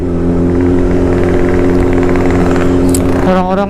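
A motorcycle ridden slowly on a busy road, its steady mid-pitched engine droning loudly and continuously close by, with a brief rise near the end.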